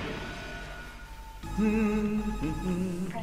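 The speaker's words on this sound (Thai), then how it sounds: "มีโทรศัพท์จากปีเตอร์ปาร์เกอร์" A telephone rings with an incoming call in an animated Spider-Man, Iron Man and Hulk story, a close, tonal electronic ringtone starting partway through and repeating over a low background rumble.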